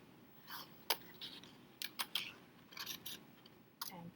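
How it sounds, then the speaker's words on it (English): Crisp scissor snips cut through paper in short, irregular bursts, close and quiet. "And I would take my time and use the tips of my scissors"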